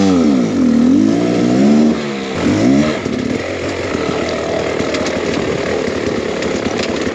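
A Beta X Trainer 300 enduro motorcycle on a snowy hillside revs hard in rising and falling surges, loud and close, then settles into a lower, rougher idle rumble.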